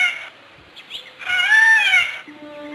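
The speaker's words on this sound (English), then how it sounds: "New additions to the farmyard since their last visit include a pair of peacocks whose raucous squawks" A pair of farmyard peacocks gives loud, raucous squawks: a short call, a pause, then a longer wailing cry with a brief tail at the end.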